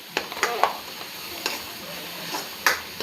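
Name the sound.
stirring onion, tomato and masala frying for pav bhaji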